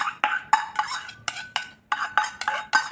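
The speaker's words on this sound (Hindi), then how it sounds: "मैं इसमें घिसा हुआ प्याज ऐड कर रही हूँ" Grated onion is added to a bowl of gobi paratha filling with a spoon, making about ten crisp, evenly spaced clinks and taps against the bowl, close and clear with no talking.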